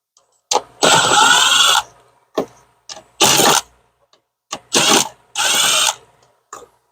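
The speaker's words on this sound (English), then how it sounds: "Pull those 4 bolts on the side." Short bursts from a power ratchet come in four loud close runs with brief clicks between them, pulling bolts from a plastic frame on a 2011 BMW 135i during an oil cooler gasket job.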